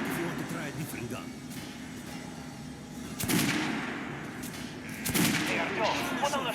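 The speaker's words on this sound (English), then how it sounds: "Go over to my range and try out those guns." Gunfire at a shooting range in the video game Metro Last Light Redux, a few loud sharp shots with a steady rumbling game background beneath.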